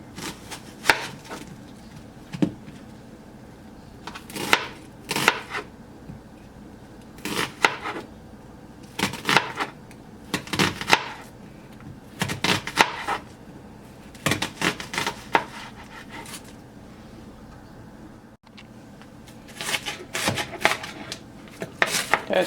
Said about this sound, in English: I am going to be cutting up half of an onion to add to the pork